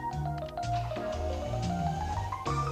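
Jukebox in the video game Shenmue switching on and rotating through its discs, a soft mechanical whirring blended with a gentle melodic tone that shifts pitch, steady and fairly quiet throughout.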